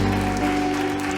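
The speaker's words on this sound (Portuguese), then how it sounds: "Vamos aplaudir bem forte a Jesus." A church congregation applauds at the close of a service, a dense, steady wash of clapping lasting about a second with musical tones sustained underneath.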